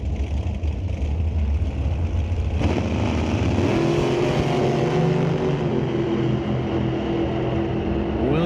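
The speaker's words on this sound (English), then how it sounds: "Benji Martin with a clean leave off the line, running a 681 at 189 miles an hour." NHRA drag racing cars at a Canadian Sportsnationals qualifying session roar off the line and rev hard down the strip, a loud sustained engine blast with rising pitch as a second car joins midway.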